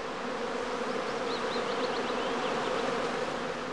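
Honey bees swarm at a bee farm, a dense, steady buzzing hum of many insects filling the air throughout, close and unbroken with no voices.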